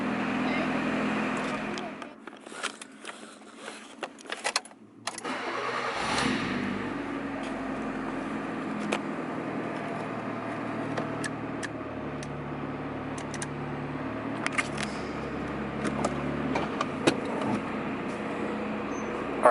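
A 1988–91 Honda CRX, with a freshly replaced inner tie rod and its lug nuts left loose, runs on a slow test drive at about 5 mph. After a short lull the engine settles into a steady, moderate hum with occasional clicks and knocks.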